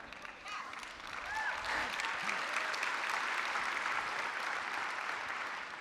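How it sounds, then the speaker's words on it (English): A keynote audience bursts into applause, a dense crowd of hands clapping that rises quickly after a quieter start and holds steady and full before easing slightly at the end. "You guys all just applauded."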